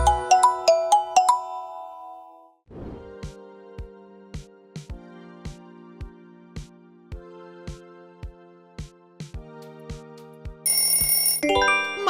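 A Microsoft smartphone ringtone plays alone: a bright chiming opening figure, a brief pause, then a steady sequence of evenly spaced marimba-like tones with a higher shimmering burst near the end, loud and clear.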